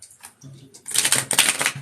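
A deck of UNO cards being shuffled: soft, light riffling at first, then a denser, crisp flurry of card flicks close up that continues to the end.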